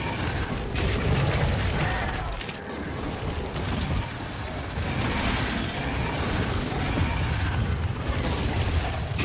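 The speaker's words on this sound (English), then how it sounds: "kinda nuked myself a little bit there, that hurt" A nuke explosion in the factory-building game Factorio, a sustained heavy rumbling roar with dense mechanical clatter running continuously and loud throughout.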